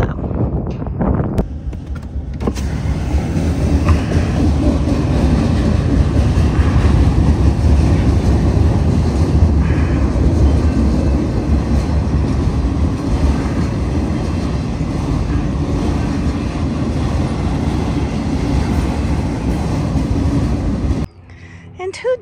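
A train rolls along an active railway track in Winfield, Kansas, a loud sustained rumble that fills most of the clip, with wind buffeting the microphone, before it cuts off abruptly near the end.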